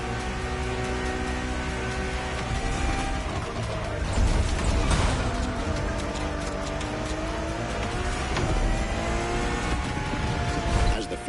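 A Ferrari Enzo supercar engine in the racing game The Crew Motorfest roars continuously, its pitch rising and falling as it revs and shifts, loud and close throughout.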